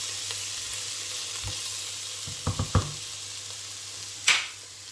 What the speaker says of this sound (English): just leave this for a couple more minutes, just to fry